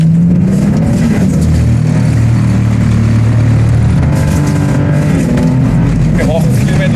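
A turbocharged Lexus GS300 drifts with its engine held at high revs. A loud, steady engine drone rises and falls slightly, with tire and exhaust roar close by.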